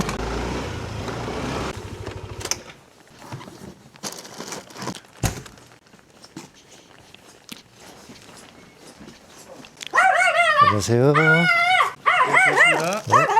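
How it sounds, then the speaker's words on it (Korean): A small puppy barks and yips excitedly near a delivery rider arriving at a chicken-feet restaurant pickup, a burst of high, repeated barks after a spell of talk and street noise, with voices around it. "강아지가 격하게 반겨주네"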